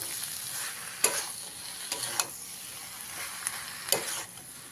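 Ground spice being stirred into a potato and brinjal curry frying in a pan, a steady sizzle with several sharp scraping stirs, close and fairly quiet, no talking.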